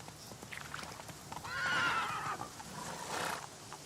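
Roach, Geralt's horse in The Witcher video game, gives a single drawn-out neigh over a steady background bed, rising and fading within a couple of seconds, with no speech.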